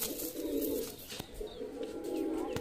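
Punjabi Malwai pigeons coo in low, throaty, repeated phrases close by, with soft rustling and faint background noise and no talking.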